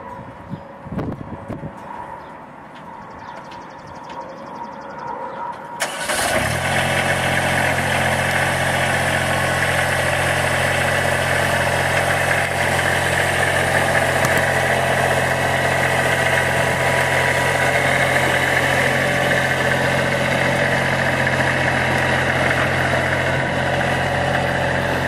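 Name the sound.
riding lawn mower engine running as it is driven off the trailer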